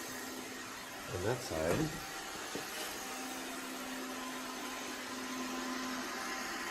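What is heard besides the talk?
iRobot Roomba 690 robot vacuum running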